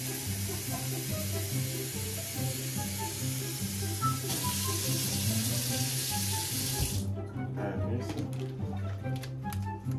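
Dishes being washed in a kitchen sink under a running tap, a steady broad rush of water with light clatter, while steady background music plays underneath and the flow cuts off near the end.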